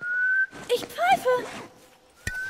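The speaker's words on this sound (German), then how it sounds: "Ich pfeife!" In The Last of Us, a character whistles a long steady tone, followed by a rising, warbling whistled phrase over spoken dialogue, then a brief sharp click and another sustained whistle note at the end.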